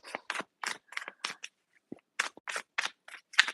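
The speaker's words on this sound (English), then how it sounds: "I feel like I can't even stop shuffling your cards" Tarot cards being shuffled, a quick series of crisp riffling snaps in two bursts separated by a short pause, close and fairly quiet with no voices.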